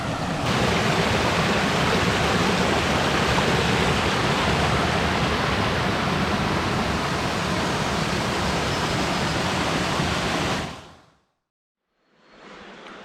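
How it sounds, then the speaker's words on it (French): A mountain stream near the Larzac plateau rushes like a torrent in a steady, loud, broadband roar for about ten seconds, then cuts out abruptly and returns faintly. "on remonte ce ruisseau là qui a un petit air de torrent"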